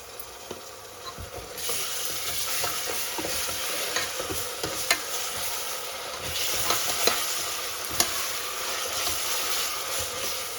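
Ginger paste frying with onions in a pan for goat head curry, a steady dense sizzle heard up close, broken by occasional light stirring scrapes and clicks.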